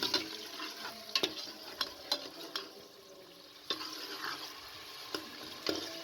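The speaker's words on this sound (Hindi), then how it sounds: "जैसे ही ऑयल गर्म हो जाए इसके अंदर प्याज को डाल दें" A steady hiss of onions frying in hot oil, with occasional scrapes and clicks of stirring in a pan close by.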